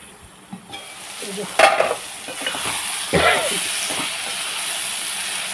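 Brinjals are stirred in a hot pan with a scraping of the spoon and bursts of steamy sizzle over a constant frying crackle, heard close and without talk.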